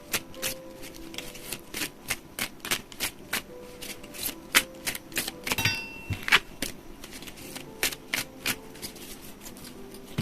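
Tarot and oracle cards riffle and snap in a close, quiet series of crisp shuffling bursts and soft card slaps, repeated irregularly with no talking.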